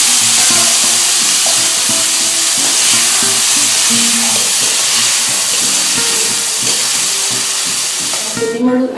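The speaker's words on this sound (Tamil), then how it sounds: "அடுப்பில் வாணலை வைத்து எண்ணெயை ஊற்றி 2 லவங்கம் சேர்த்து அரைத்த விழுதை அதனுடன் சேர்த்து நன்றாக கலக்கவும்" Ground spinach paste fries in oil with two cloves in a pan, making a loud, dense hiss and sizzle with stirring scrapes throughout. The sound stays close and continuous, and a brief clatter comes near the end.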